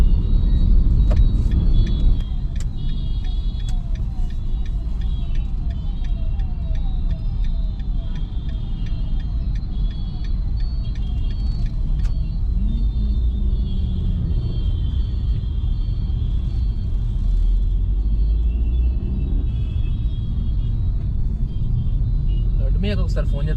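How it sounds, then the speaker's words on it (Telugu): Heavy road traffic on a busy morning street, a steady engine rumble with vehicles passing and occasional horn-like tones, running loud and continuous throughout. "ఈ టైంకే ఫుల్ ట్రాఫిక్ ఉంది."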